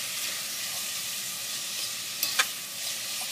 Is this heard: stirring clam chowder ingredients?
yes